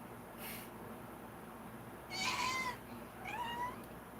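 A cat meows twice, clear rising-and-falling calls about a second apart, heard fairly close over a quiet room hum with a brief soft noise before them.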